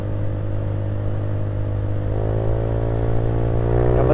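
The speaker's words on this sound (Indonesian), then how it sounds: "ini gue juga pake knalpot bebasan aja, dipinjemin sama Papi Irwan" A motorcycle fitted with a free-flow aftermarket exhaust, on a Sunday-morning city ride: a loud, steady engine drone that climbs in pitch as the rider revs it up in the second half, heard alone and up close.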